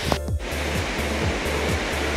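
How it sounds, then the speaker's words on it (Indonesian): Dolo waterfall on the forested slopes of Mount Wilis near Kediri, splashing steadily as a dense, continuous roar of falling water heard from a steep downhill trail, with a brief rustle near the start. "gemericik air terjun sudah terdengar dari sini"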